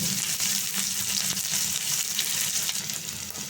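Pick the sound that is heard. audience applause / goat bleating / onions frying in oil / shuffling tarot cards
onions frying in oil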